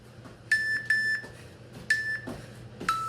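A workout interval timer during an AMRAP session gives four short, sharp electronic beeps, evenly spaced over a quiet room hum.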